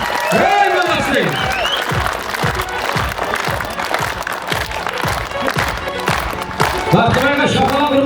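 An audience claps steadily at a school's 20th anniversary celebration, with loud continuous applause under an announcer's voice and a few cheers mixed in.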